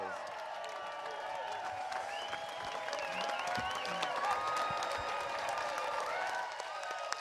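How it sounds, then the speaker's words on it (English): Steady applause from a panel audience rolls on evenly at moderate distance, with voices and chatter mixed through it. "Give them a round of applause"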